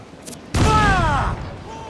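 Ship cannons fire in an Assassin's Creed 4 Black Flag naval battle: a single loud, booming blast bursts out and rolls away, with a voice shouting over it.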